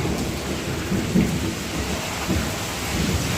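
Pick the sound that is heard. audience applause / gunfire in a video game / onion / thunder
thunder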